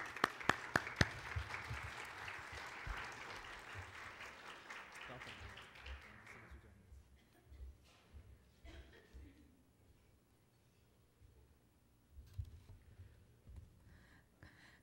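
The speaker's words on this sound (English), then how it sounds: "Let's have a big round of applause." A round of audience applause at a research talk, loud clapping at first that thins out after about six seconds into scattered claps, a few sporadic later claps with quiet room sound between.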